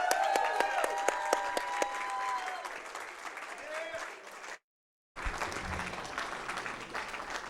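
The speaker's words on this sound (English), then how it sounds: "Give them a big round of applause" Audience applause at a Super Mario 64 speedrun tournament, loud sustained clapping from a crowd with a few cheers, broken by a short silent gap before resuming.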